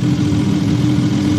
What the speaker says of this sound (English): But look at that engine warming up there.